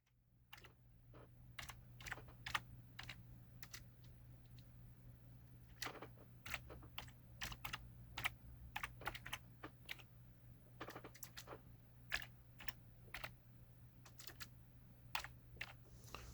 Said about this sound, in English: Then you want to type in list disk,